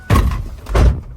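A Mustang car door shuts twice in close succession, each a heavy, close, solid thunk with a short ring-out.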